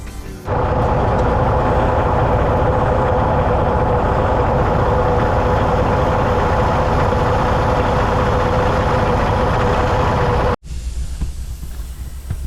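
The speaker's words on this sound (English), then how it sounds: "So I'm gonna crank the truck up and see how this thing does." A Freightliner truck engine cranks and settles into a loud, steady diesel idle running for about ten seconds before cutting off abruptly.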